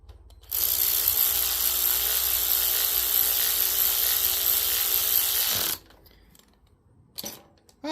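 A 3/8-inch ratchet buzzes steadily for about five seconds as a bolt is run back in on the carburetor of a Briggs 12 HP flathead engine, then stops, followed by a few faint clicks, close up.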